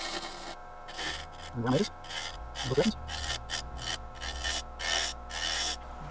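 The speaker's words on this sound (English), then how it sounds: "get out spittle gouge, a little crown, 1/2-inch gouge, and gently peel away the top here" A half-inch spindle gouge pares and peels wood from a spalted oak turning, giving repeated close scraping, rasping bursts with a brief spoken word near the start.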